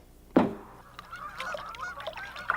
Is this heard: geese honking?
yes